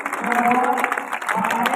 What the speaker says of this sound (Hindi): इनके लिए जोरदार तालियां चलती रहनी चाहिए, तालियां रुकनी नहीं चाहिए